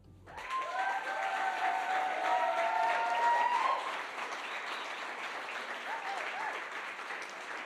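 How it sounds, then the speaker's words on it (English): A crowd at the UK Barista Championship 2024 finals claps and cheers loudly with scattered whoops, then the applause tapers to a softer patter with a few voices in the room. "did we say stop clapping? Come on, keep clapping"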